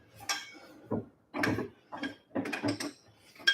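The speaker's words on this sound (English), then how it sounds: "I don't think this big wrench is actually going to work." A big wrench works on a Mazda Miata's power steering, giving close, short metallic clanks and ratcheting scrapes in several separate bursts.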